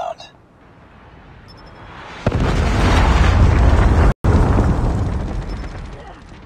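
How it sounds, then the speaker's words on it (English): A Predator missile from a killstreak strikes in Call of Duty Mobile ranked multiplayer. A loud, close blast erupts after a quiet lead-in and rolls into a sustained roaring rumble, cut briefly by a sudden dropout. "Hostile Predator missile inbound."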